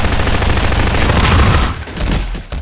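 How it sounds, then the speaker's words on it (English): Shotgun blasts in Half-Life 2 Deathmatch, a dense, loud burst of gunfire filling the first second and a half before thinning into a few scattered shots and echoes. "It's only shotgun shooting, what the heck?"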